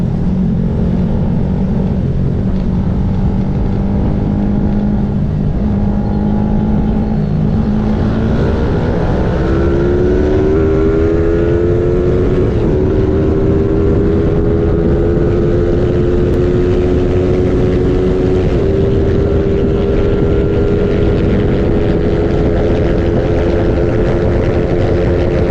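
Motorcycle engines drone loudly and steadily for the whole stretch, running at top speed alongside an R3, their pitch climbing partway through as they speed up, with strong rushing wind noise.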